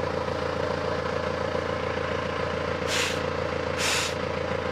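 A farm tractor's trailer air brake is applied twice, each a short sharp hiss over a steady engine idle, fairly close, with no talking.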